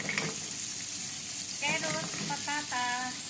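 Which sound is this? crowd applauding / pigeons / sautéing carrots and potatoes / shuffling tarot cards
sautéing carrots and potatoes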